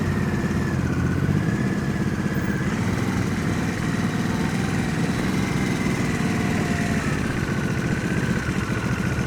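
A motorcycle engine runs at low speed during an advanced slow-speed riding practice session in Washington, giving a steady, continuous mid-level rumble that holds evenly with no clear throttle bursts.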